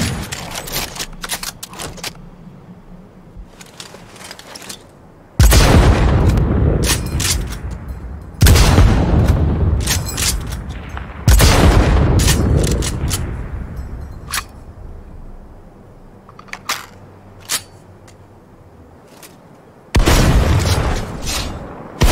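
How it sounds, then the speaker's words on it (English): Gunfire and explosions from a Cyberpunk 2077 firefight: several loud, heavy booms land a few seconds apart, with sharp bursts of shots and crackling clatter in between. "In the late game, gunfights can start to feel pretty solid"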